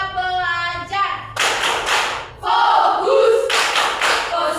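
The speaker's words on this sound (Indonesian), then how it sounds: "Tepuk siap belajar." A class of children claps in short rhythmic bursts for an Indonesian ready-to-learn clapping routine, interspersed with sung or chanted voices in between.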